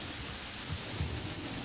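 Rain and thunder from the video game Terraria form a faint, steady hiss of rainfall with a low rumble beneath, with no voices.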